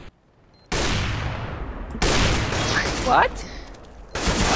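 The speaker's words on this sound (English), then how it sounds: "Both of the shots hit me." Rapid gunfire bursts in CS:GO, loud and close, coming in three heavy volleys separated by short gaps, with a brief spoken word near the start.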